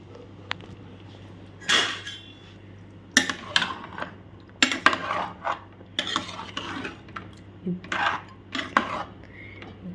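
A spoon stirs mutton curry in a metal pot while salt is mixed in, giving intermittent scraping and clinking strokes in short bursts, close and fairly quiet, with a low steady hum underneath.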